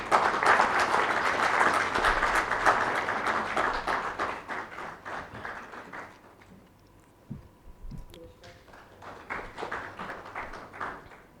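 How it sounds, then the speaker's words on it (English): Audience at a coal industry summit applauds to welcome a chief guest, a loud dense burst of clapping that thins into scattered claps and then swells again with a few thumps. "I request you all to welcome her with a big round of applause"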